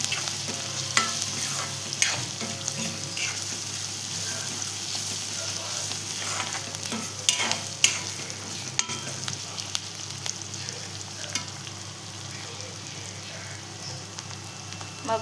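Onions frying in a pan with hing and turmeric for an Alibag-style shivlya shellfish curry, stirred with a steady sizzle and light scraping throughout at moderate level, no talk.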